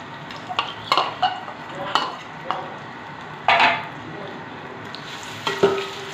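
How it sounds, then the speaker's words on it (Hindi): Onions fry in a cup of hot oil in a pan while making chana pulao, a low steady sizzle under intermittent clinks and scrapes of a spoon stirring against the metal. "और अनियन को लाइट गोल्डन ब्राउन होने तक हम फ्राई करेंगे।"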